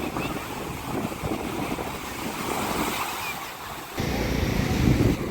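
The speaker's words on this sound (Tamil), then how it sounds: "அங்கேருந்து போட்டு வருது, மீன் பிடிச்சிட்டு வருது" A fishing boat returning to shore at Kovalam beach in Chennai, heard as a low motor rumble under steady surf and wind noise, with a brief lull before the waves swell louder.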